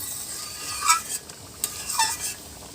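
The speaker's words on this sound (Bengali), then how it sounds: "মিশিয়ে নেব।" Curry of raw banana with split green chillies stirred in a pan, with a soft sizzle underneath and a few light clinks and scrapes of the spoon against the pan.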